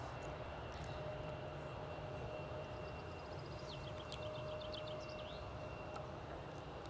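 A KLM airliner flies over at an airport near Edinburgh, a faint, distant jet roar that stays low and steady, with light chirps of birds above it and no talk.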